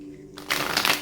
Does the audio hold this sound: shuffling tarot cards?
yes